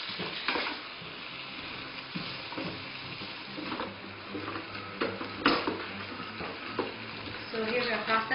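Tomatoes sizzle and fry in a rice cooker, a steady close crackle with scattered stirring scrapes and clinks throughout.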